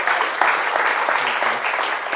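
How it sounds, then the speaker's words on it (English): Audience applause closing a talk, dense and steady clapping throughout, close and loud with no voices on top. "please join me in a final round of applause for Minsuk Cho"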